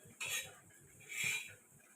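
Fried okra is stirred in a kadai, with two slow metallic scraping sweeps of a utensil against the pan, close and fairly soft, and no talking.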